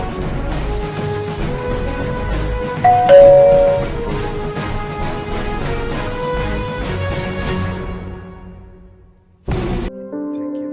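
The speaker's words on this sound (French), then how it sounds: "activer la cloche de notification" A bright notification bell chime rings once over steady background music, fairly loud. The music later thins out before a short final burst.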